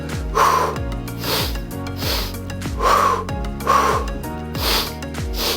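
Strong, audible breaths during a mat exercise class, rhythmic exhales and inhales repeating at a steady pace, loud and close, with faint rubbing on the mat.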